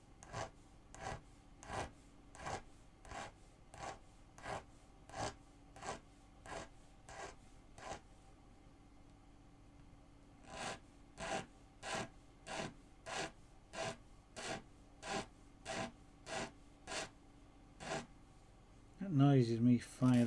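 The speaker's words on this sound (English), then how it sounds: "That noise is me filing the tip." Steady rhythmic rasping of a file sharpening the metal tip of a scraperboard tool, about two strokes per second in a close, dry series, pausing briefly midway before resuming, with a short louder scrape at the end.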